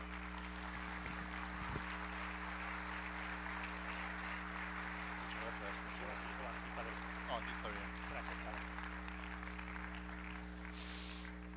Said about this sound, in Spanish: recibir con un muy fuerte aplauso al padre Miguel Carmena